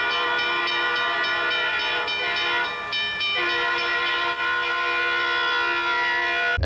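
A train horn blares loud and sustained, briefly dipping once before resuming, over the rumble of a passing train nearby.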